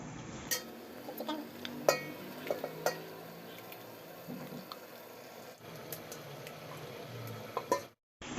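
Chicken stirred through frying masala in a pan for biryani, with a soft continuous sizzle under scattered scrapes and clinks of a spoon against the metal pan, fairly close and steady throughout.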